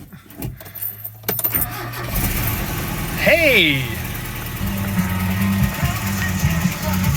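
A 1987 Dodge Power Ram 50 4x4 with a 5-speed manual and a bad exhaust leak cold-starts after a short shout and some rattling, then settles into a rough, steady idle close by.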